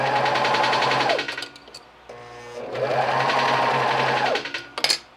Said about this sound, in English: I'm just gonna serge the inside and the outside armpit side